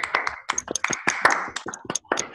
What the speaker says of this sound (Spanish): Un aplauso para ustedes por la pregunta.